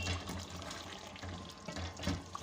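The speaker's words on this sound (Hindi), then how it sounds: "अब पतीला अगर हम कोफ्ते के अंदर चम्मच हिला रहे तो हमारे कोफ्ते टूट नहीं रहे" A spoon stirs kofta curry in a cooking pot, making faint, soft scraping and bubbling sounds in a quiet kitchen with no voices.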